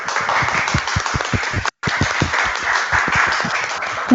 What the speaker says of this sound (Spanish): Ah, no, era aplauso.